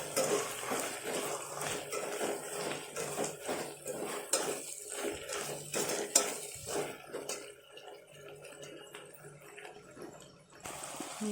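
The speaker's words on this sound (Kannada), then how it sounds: "ಹೀಗೆ ಕೈ ಆಡಿಸಿ ಚೆನ್ನಾಗಿ ನೋಡಿ, ಈ ಥರ ಚೆನ್ನಾಗಿ ಎಣ್ಣೆಯಲ್ಲಿ ಬೇಯಿಸ್ಕೋಬೇಕು." Chopped tomatoes frying in oil in a pan, stirred with a utensil that scrapes and clinks against the metal in an irregular rhythm, with a steady sizzle underneath that thins out toward the end.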